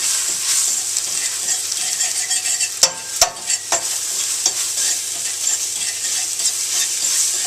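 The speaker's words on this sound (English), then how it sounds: "I can just scramble my eggs from here." Eggs being scrambled in a hot pan on residual heat after cooking bacon, with a steady sizzle broken by a burst of metal spatula scrapes and clacks near the middle, close-up with no speech.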